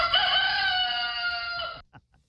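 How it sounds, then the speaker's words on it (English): A rooster crows once in a long, loud, sustained call lasting nearly two seconds, then cuts off abruptly into near silence, with no talking. "we got the rooster"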